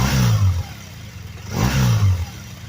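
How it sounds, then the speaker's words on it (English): A BMW R1200RS motorcycle engine is blipped twice, each rev rising sharply then falling back to a lumpy idle, close and clear with no talk. "here's the rev."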